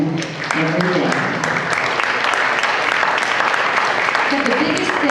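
An audience at a superintendent forum applauds teachers and educators, with loud sustained clapping that fills the whole stretch and a few voices mixed in.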